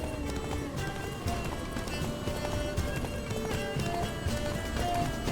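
Rapid hoofbeats of a galloping horse in The Witcher 3: Blood and Wine drum steadily over sustained musical tones, with no pauses.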